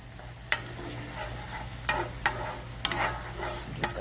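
Italian sausage frying in a pan is stirred with a utensil, giving a few sharp scrapes and clicks over a steady low sizzle and hum of the stove.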